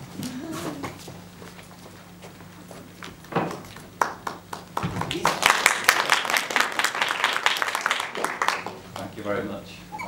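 University audience clapping for a speaker at Middlesex University, scattered claps swelling into fuller applause midway and then fading, with a voice talking near the start.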